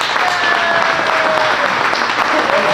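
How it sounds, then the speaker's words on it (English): Dense, steady applause from an audience at a company's ten-year celebration, honoring the company leader, sustained at full volume with no gaps throughout. "big warm round of applause for our fearless leader"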